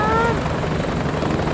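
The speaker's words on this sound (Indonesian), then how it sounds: "Helikopter patroli ini apakah mau membantu atau hanya mengawasi saja ya teman-teman?" A patrol helicopter thrumming steadily and loud at mid distance while someone talks over it, the rotor drone holding even throughout the short moment.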